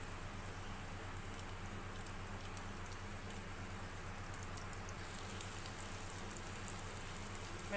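Green chilies fry in hot oil in a pan, a steady, soft sizzle with faint crackles throughout and no voices.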